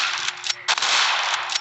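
Rapid bursts of gunfire in a zombie shooting video game, loud, close and repeated in quick clusters, with no talking over them.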